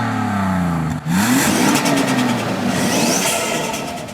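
Vauxhall Lotus Carlton's 3.6-litre twin-turbo engine revs hard in Forza Horizon 4, a loud, close mechanical roar that briefly cuts out, then climbs through rising pitch sweeps and holds a steady high-revving drone.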